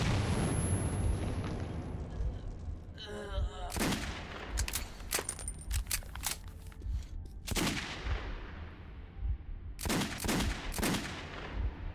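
A grenade blast and bursts of gunfire in the video game Metro 2033, with loud sharp shots repeating in clusters over a rumbling backdrop.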